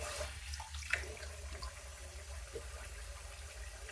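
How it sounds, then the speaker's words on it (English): Tap water runs steadily into a sink, a soft continuous splashing and trickling heard fairly quietly with no voices. "That's the warm water."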